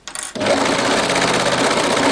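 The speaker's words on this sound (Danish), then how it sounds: "Vi har syet sidesømmen, som fortsætter ud i ærmet." A sewing machine stitches the side seam of a girl's summer dress, the seam continuing into the sleeve; after a brief start the close, steady whir runs on continuously with no talk.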